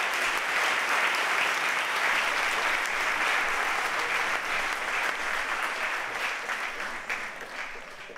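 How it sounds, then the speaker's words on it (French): A senior citizens' evening audience applauds the project partners in a dense, sustained wash of clapping that holds steady and eases slightly toward the end. "On peut les applaudir au fur et à mesure."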